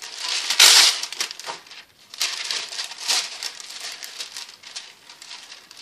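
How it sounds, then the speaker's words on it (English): Wax paper being handled while making a homemade gelli plate, with loud close crinkling bursts and softer rustles spread across several seconds, no voices. "Another piece of wax paper."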